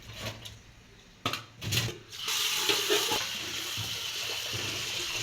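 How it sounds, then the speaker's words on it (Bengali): Fish being washed under a running tap in a kitchen sink, with a steady close rush of water and splashing, broken by a few brief bursts before the flow settles into a continuous stream. "এখন ধুয়ে নিচ্ছে মাছ।"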